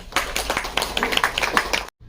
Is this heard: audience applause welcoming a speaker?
yes